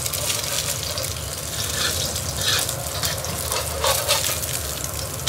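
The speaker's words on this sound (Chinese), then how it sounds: "咱们先煎两个鸡蛋，火稍微大一点" Two eggs frying in a hot pan over fairly high heat, a steady loud sizzle and crackle running throughout with faint scraping bursts, no voices.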